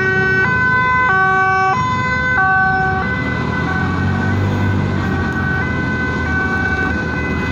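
A GMC ambulance on the road sounds its siren close and loud, a stepping two-tone wail that changes pattern midway over steady road noise.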